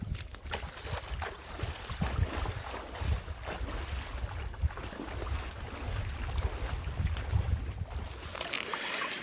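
Kayak or canoe paddling on a Scottish loch in Glen Etive, with steady water lapping and gentle splashes under a constant rush of wind across the microphone, continuous and close throughout.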